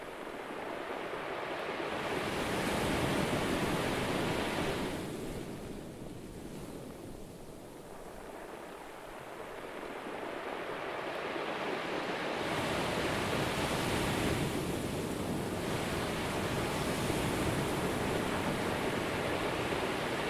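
Ocean waves wash onto a beach in a steady, continuous roar of surf, swelling and easing in slow surges with some wind noise, with no voices.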